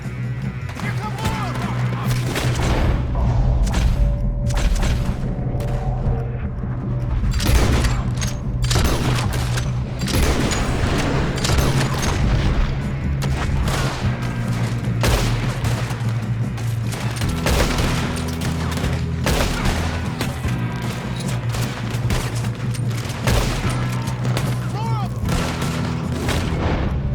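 A dense gunfight in Red Dead Redemption 2 rattles with rapid rifle and pistol shots and heavy booms throughout, loud and close, while game characters shout over the shooting.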